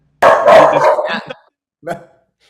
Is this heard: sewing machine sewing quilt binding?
no